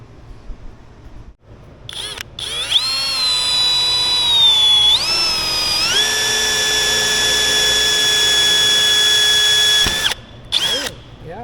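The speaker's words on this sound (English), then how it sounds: "whether we take a drill and drill those and pull them out with a slide hammer" A power drill whines loudly and close, drilling out engine freeze plugs, its pitch sliding up and settling into a steady high drone before cutting off, with short bursts after.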